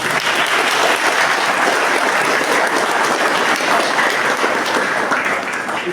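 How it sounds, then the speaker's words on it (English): A school and college audience claps loudly and continuously, a dense, steady round of applause with no letup. "A big round of applause for this movement."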